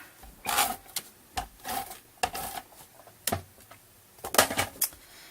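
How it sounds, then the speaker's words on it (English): Tape being pulled from a roll and pressed onto a handmade greeting card, a series of short, sharp crackling rips and taps spaced unevenly, close to the microphone with no speech. "So let me just get some tape on here."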